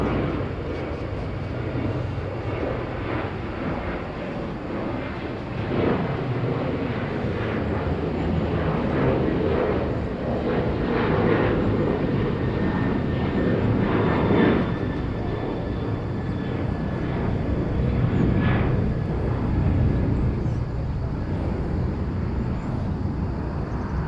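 A Batik Air Malaysia airliner on flight 823 at Incheon airport rumbles and roars steadily at a distance, a broad jet noise swelling slightly and holding over the whole stretch.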